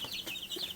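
Young chicken chicks about two and a half weeks old, getting their feathers, give a few quick, faint peeping chirps up close in a brief burst.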